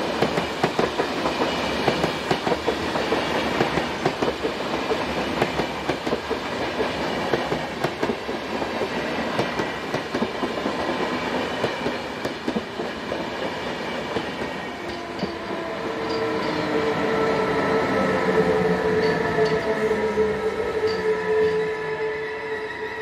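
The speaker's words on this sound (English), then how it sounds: "Here 460-097 powers the 12:22 arrival bound for Interlaken" Swiss locomotive 460-097 hauls an intercity train toward Interlaken, a steady rolling rumble with rhythmic wheel clatter and a rising whine and squeal as it passes close by.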